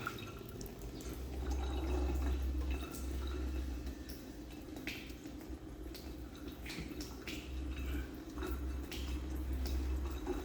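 A weak trickle of water runs from a sink tap, with irregular dripping and splashing that continues steadily throughout, close by and fairly quiet.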